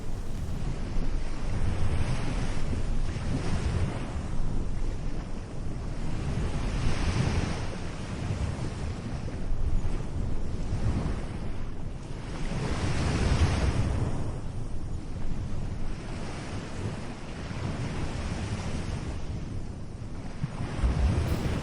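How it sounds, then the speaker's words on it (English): Powerful Atlantic surf crashes onto the black sand coast of South Iceland under stormy skies, heavy waves rolling in and surging every few seconds over a constant roar of wind buffeting the microphone. "standing guard over the crashing Atlantic waves"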